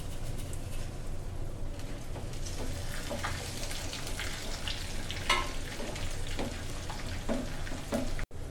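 Whole cumin seeds fry in hot oil for a dal tempering, giving a steady, close sizzle and crackle that runs throughout, with a few light stirring clicks and no speech.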